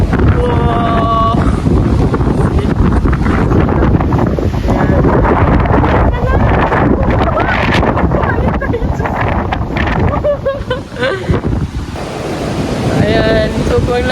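A strong typhoon wind roars through Hong Kong and batters the microphone with a constant loud rush. A person talks over it now and then.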